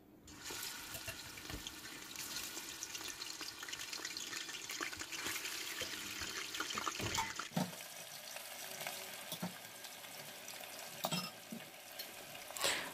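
Meat going into hot oil in a preheated pot for Senegalese mbakhalou saloum, with a steady crackling sizzle throughout and clattering stirs and sharp knocks against the pot, fairly close, no talking.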